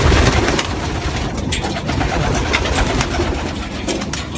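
Pigeons kept by a breeder coo steadily in their loft, a soft continuous murmur of several birds close by with occasional flutters and sharper calls, no voices over it.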